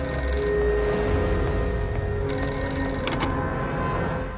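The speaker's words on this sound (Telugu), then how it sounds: "ప్లాట్ఫామ్ నంబర్ 1 మీద ఉన్న పబ్లిక్ టెలిఫోన్ రింగ్" A public telephone on a railway station platform rings in a film climax scene, bell tones sounding over a loud, steady background rumble, with no speech.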